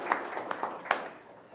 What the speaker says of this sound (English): we're going to give them a clap anyway